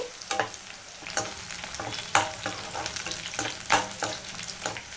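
Sliced onion, curry leaves and green chillies frying in oil for mutton fry, a steady close sizzle broken by repeated scraping stirs of a spoon through the pan, with no voices.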